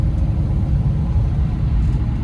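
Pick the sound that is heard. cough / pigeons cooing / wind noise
wind noise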